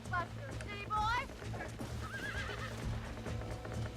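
A horse in the Red Dead Redemption video game whinnies twice in quick rising bursts, with clip-clopping hooves and faint game background underneath, moderately near and soft overall.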